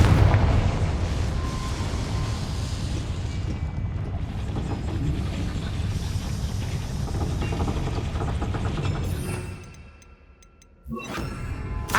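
The Confringo blasting spell explodes in the Hogwarts Legacy video game, a loud, sustained booming rumble that rolls on for several seconds, dips briefly, then surges again near the end.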